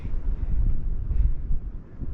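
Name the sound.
strong wind on a mountaintop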